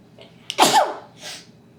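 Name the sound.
sneeze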